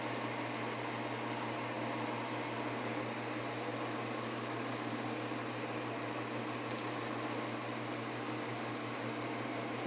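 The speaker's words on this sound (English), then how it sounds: "I think I may need to turn my little fan off a little bit." A small electric fan runs at a steady, even whir throughout, a constant close hum with a low tonal drone and broadband airy noise, alone with no voices or other events.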